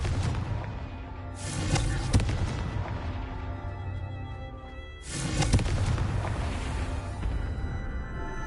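Two booming blasts from the Confringo blasting spell in a Hogwarts video game, each a sharp loud burst that rumbles away, with a dense low background roar throughout.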